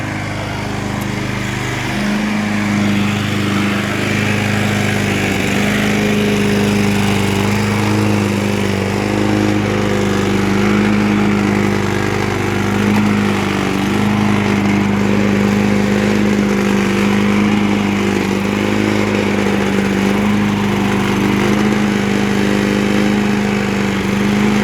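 A 2003 Toro Recycler lawn mower engine runs steadily up close, a loud continuous drone with a constant pitch and no voices over it.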